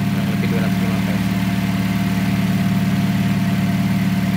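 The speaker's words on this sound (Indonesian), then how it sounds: "Ini kecepatan putaran mesin pada posisi idling" A car engine idles steadily while its air-conditioning system is being checked. It gives a constant, even hum with a fine vibrating buzz, close and unchanging throughout, with no rise in revs.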